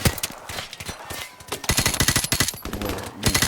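Rapid automatic gunfire from enemies in the Call of Duty Modern Warfare video game rattles in loud, dense bursts, with a brief lull before the bursts resume.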